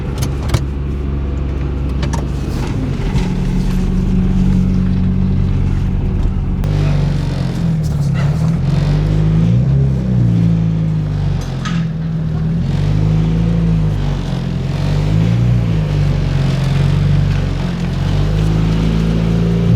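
A Honda Accord's engine runs steadily and loudly up close as the car is driven out, with a continuous low rumble and shifting revs throughout.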